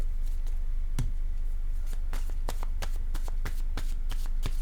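Playing cards are handled and laid down one after another during a reading, crisp papery flicks and soft taps in a quick irregular series, close by over a steady low hum.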